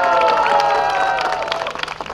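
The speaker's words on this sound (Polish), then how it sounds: "Wielkie, ogromne brawa!" Audience at a Lubawka town charter anniversary celebration breaks into brief clapping and cheering under a ringing brass band chord, the applause growing more distinct as the music fades.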